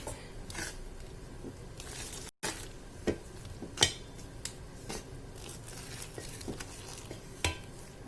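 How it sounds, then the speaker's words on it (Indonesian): Spoon stirring wheat flour dough for pempek while hot water is added, faint soft scraping and occasional clinks against the bowl, quiet and intermittent with no talking. "masukkan the hot water step by step atau sedikit demi sedikit sambil diaduk-aduk"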